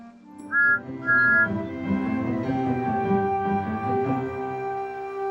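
Two short high whistle toots sound in quick succession from Thomas and Friends engines, then a steady tuneful whistle-like drone continues with layered tones.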